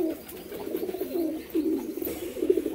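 A pair of Madras pigeons coo softly nearby in a series of low, rolling, repeated calls, with short pauses between phrases and no talking.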